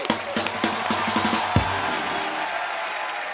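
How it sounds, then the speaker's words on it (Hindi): A studio audience at a televised comedy show breaks into applause, with a quick run of claps and cheers that builds and then settles into a steady wash of clapping. "एक बार जोरदार तालियां हो जाए मिस्टर राज कुंद्रा के लिए।"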